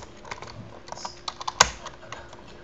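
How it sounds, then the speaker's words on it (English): Clacking keystrokes on a loud computer keyboard during a Minecraft session, a scattered run of close, sharp taps with one harder hit near the middle, and no talking. "sorry if you can hear my keyboard. I have a really loud keyboard."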